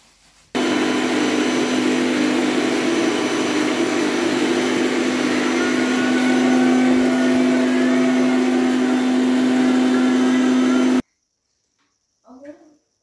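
A kitchen mixer grinder grinds boiled gram greens (chickpea leaves), running as a loud, steady motor whine for about ten seconds before cutting off abruptly, followed by a brief faint sound.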